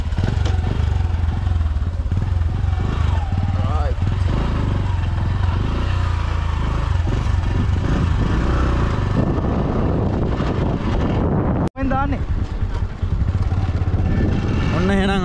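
A motorcycle rides along a small village road in Sri Lanka, its engine a steady, close drone with some rattle throughout, while people talk over it.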